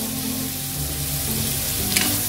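Spicy anchovies sizzle and crackle in hot oil in a pot, stirred once or twice with a faint scrape, the frying steady and close throughout.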